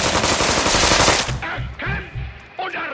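Gunfire in the South Park Stick of Truth video game: a loud, rapid machine-gun burst for about a second, then several separate shots with short gaps between them.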